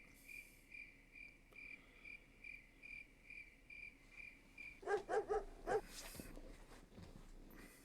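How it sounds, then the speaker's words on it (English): In the game Full Throttle, a dog barks in a quick cluster of several sharp barks near the end, after a steady chirping of crickets at night in a junkyard. "The dog's barking."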